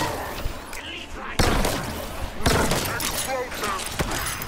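Shock rifle shots from Halo Infinite multiplayer ring out in sharp bursts amid heavy battle noise and explosions, with a voice talking over the gunfire.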